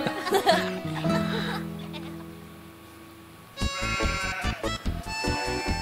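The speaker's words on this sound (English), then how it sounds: "Apple Bloom, don't let that sheep share the spotlight" Sheep bleating in an animated pony parody episode, a few wavering cries near the start, then a quiet stretch and busy overlapping sounds with a short laugh.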